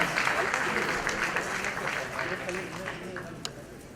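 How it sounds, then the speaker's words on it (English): An audience at a World Hepatitis Day 2016 event with a celebrity guest applauds steadily, a dense wash of clapping that fades slightly toward the end, with a voice talking over it. "let's give everyone a round of applause, ladies and gentlemen"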